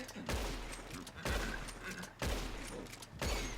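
Repeated gunshots in Red Dead Redemption 2, fired while riding a horse, come as four loud, evenly spaced blasts that each ring and decay, with a faint voice underneath.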